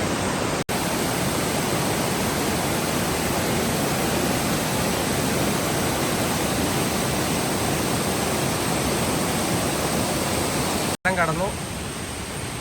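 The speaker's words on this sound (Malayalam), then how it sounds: "താഴത്തൂടെയാണ് ആ പുഴ ഒഴുകി പോകുന്നത്." A river rushes through forest near Kakkad, a steady, loud, unbroken wash of flowing water filling the whole stretch, with a brief voice heard near the end.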